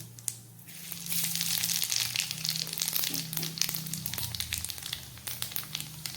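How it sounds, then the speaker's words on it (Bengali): Panch phoron spices dropped into hot oil in which fish head was fried, sizzling and crackling steadily for several seconds with sharp pops over a low hum, close and fairly loud, no talking. "এই মাথা ভাজা তেলের মধ্যে আমি দিয়ে দিচ্ছি কিছুটা পাঁচ ফোড়ন"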